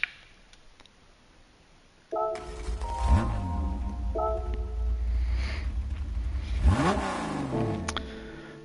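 Car engine in Gran Turismo 7 catching and revving up twice, rising whines climbing and falling back to a steady idle hum, loud and close after a quiet start, with a voice talking over it.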